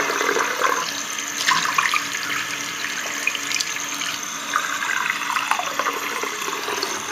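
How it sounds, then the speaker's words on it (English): Cold tap water runs steadily into a sink to defrost a frozen fish, a continuous splashing hiss with small bursts of spatter as the stream hits, close and alone with no speech. "now going to defrost it with cold water"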